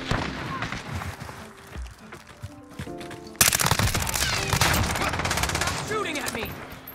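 Gunfire from the video game Modern Warfare, with dense rapid bursts, partly mixed with game music at first and then a louder, steady barrage in the second half.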